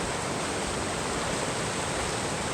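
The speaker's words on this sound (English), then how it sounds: "there is a really pretty waterfall right behind me there, coming down from Royce Lakes" A waterfall pours down from Royce Lakes in the Sierra high country, a loud continuous broadband roar of rushing water with no breaks and no voices.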